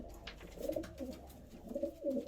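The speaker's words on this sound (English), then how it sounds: "Look at him, he's crowing there." A racing pigeon cock coos in a loft, two close, soft rolling coo phrases separated by a short pause, heard alone without speech.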